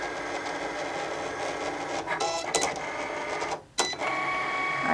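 A Cricut Explore machine cuts out shapes with a continuous whirring, scraping drone of blade and carriage motion, broken by short pauses and quick mechanical shifts, close up with no speech.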